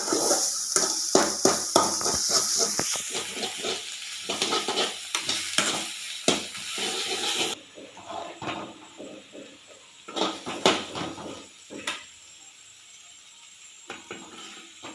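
Egg bhurji stirred and fried over a low flame, a busy run of spatula scrapes and taps against the pan over a gentle sizzle, close and clear, settling into quieter occasional stirs halfway through.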